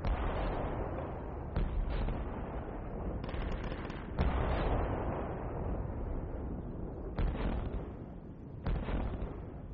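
Mortar fire and explosions in the video game Squad, a steady rumbling barrage of repeated booms and bursts with sharp impacts every second or two, loud and continuous throughout.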